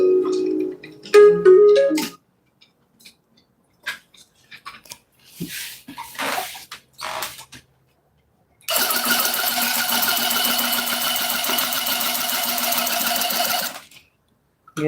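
A tufting gun punches yarn into a rug in a sustained loud buzzing rattle for several seconds near the end, after earlier scattered handling noises and quiet gaps.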